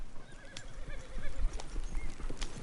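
Horse hooves clip-clop rapidly in a galloping rhythm in the video game Red Dead Redemption 2, with a couple of high whinnies over a low rumbling ground, fairly close.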